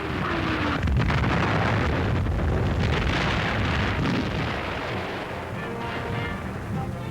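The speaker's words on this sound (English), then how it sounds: "A shell drops every few seconds." Artillery shells bursting near a WWII frontline medical station, heard as dense continuous rumbling and booming with no clear separate blasts, in worn, noisy old newsreel sound.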